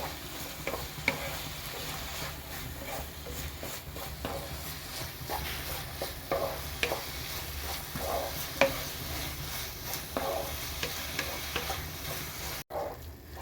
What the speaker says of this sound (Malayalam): തേങ്ങയും ചേർത്ത് കൊടുത്തതിന് ശേഷം നല്ലതുപോലെ ഇളക്കി കൊടുക്കുക.